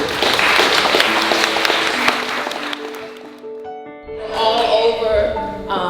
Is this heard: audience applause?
yes